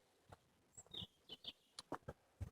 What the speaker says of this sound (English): and you can hear the birds sing.